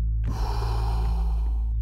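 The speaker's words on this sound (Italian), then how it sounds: "Inspira profondamente e rilascia." One long, deep breath in the Wim Hof breathing method, steady and close, over a sustained low drone with no speech during it.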